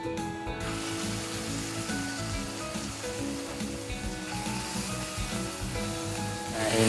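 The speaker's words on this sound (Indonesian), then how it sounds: "ini kita tumis sampai si bumbu benar-benar mateng" Ground spice paste for bandeng acar kuning sautéing in a pan, a continuous close sizzle and crackle that holds steady and grows slightly louder toward the end.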